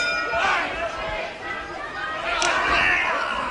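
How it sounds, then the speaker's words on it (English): Wrestling crowd at Solihull cheering during a Johnny Saint versus Mick McManus bout, a steady roar of chatter and shouts with a commentator talking over it. "the crowd here at Solihull just willing Johnny Saint to come in for the killer fall here, or submission"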